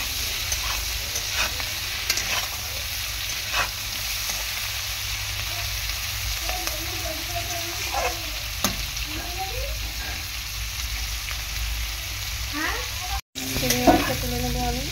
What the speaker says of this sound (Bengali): শুধু লবণ আর হলুদ দিয়ে আমি চিংড়ি মাছটাকে ভেজে নেব।